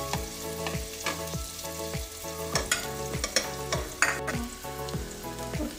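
Chilli sautéing in a pan with onion for a moong dal sprouts curry, with soft frying sizzle under repeated rhythmic scrapes and clinks of a spoon stirring against the pan, close and moderately quiet.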